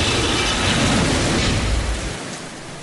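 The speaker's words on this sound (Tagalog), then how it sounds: "Bumuhos ang ulan kaninang umaga sa Ormoc, Leyte." Heavy rain pours down in Ormoc, Leyte, during Typhoon Lawin. A loud, dense, steady roar of downpour and wind fills everything up close, then eases slightly toward the end.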